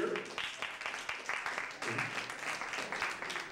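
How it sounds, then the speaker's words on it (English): An audience applauding at a comedy show, dense rhythmic clapping that swells and holds steady at close range, a crowd of many hands with a few cheers mixed in. "How about a big round of applause for the company We Got Jokes, who has put on a wonderful evening here"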